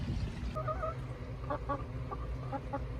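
Chickens in a hen house give soft, scattered clucks in short bursts, heard fairly close against a steady low hum of a ventilation fan.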